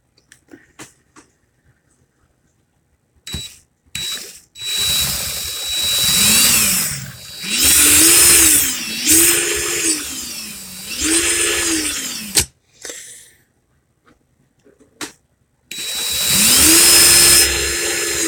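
A power drill whines in repeated bursts while winding vape coils, rising and falling in pitch as it spins up and slows, with short pauses between runs.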